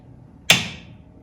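One sharp, sudden pop from a 1970 Chevrolet Nova's steering as the wheel turns, a crisp snap that quickly fades to a faint rattle in an otherwise quiet setting.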